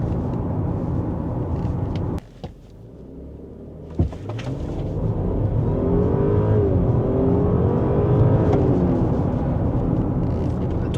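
A Volkswagen Touareg R 3.0T V6 plug-in hybrid accelerates on the road, engine note rising steadily after a brief gear-shift dip, a loud sustained whir heard from inside the cabin.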